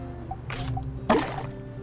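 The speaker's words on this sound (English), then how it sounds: "Fill our tank." A water tank fills in the farming game My Time at Sandrock, heard as two short liquid splashing, dripping sounds, the second louder, over soft background music.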